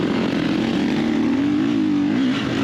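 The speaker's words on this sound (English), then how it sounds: "I'm just kind of revving a little bit, letting them know I'm behind them" A dirt bike engine revs during an AMA hare scramble race, held loud and close with its pitch rising and falling slightly over a few seconds.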